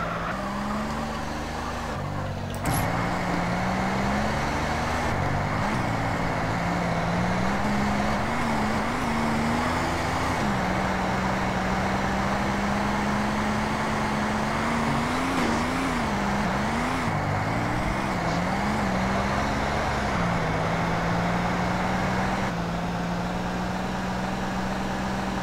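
Car engine from GTA San Andreas Multiplayer, a steady droning motor rising and dipping in pitch as the vehicle slides and skids, with a brief sharp burst near the start and continuous road-like noise throughout.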